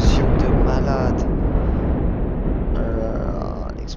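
A planet exploding in a video game, heard as a loud, continuous roaring blast with dense rumble that keeps up throughout, with faint higher whooshes and tones on top.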